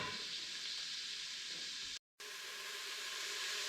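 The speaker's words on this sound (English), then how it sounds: "We're going to let the onions saute up here for just a minute" Onions sautéing in an Instant Pot give a steady, close sizzle and hiss that runs throughout, broken by one brief gap of silence partway through.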